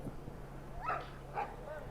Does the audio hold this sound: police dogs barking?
yes